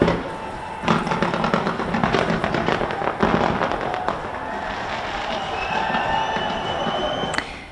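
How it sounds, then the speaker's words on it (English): New Year's Eve fireworks bursting in a dense crackling barrage, with sharp bangs and sizzling pops over a distant crowd murmur. "fireworks are being launched to welcome in 2024"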